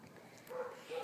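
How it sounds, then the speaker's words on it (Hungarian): A dog in Italy barks faintly in the distance, two short tonal yelps in quick succession, quiet and thin against a soft background. "És ez a rohadt kutya úgy ugat angolul, nem angolul, olaszul"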